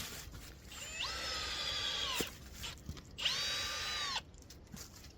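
A power drill whirs in two sustained bursts, pitch rising as it bores at a slight upward angle into a maple tree trunk for tapping, with a brief pause between and faint clicks afterward.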